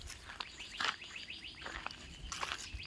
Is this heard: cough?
no